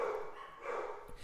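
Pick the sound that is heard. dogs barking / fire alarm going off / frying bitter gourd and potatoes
dogs barking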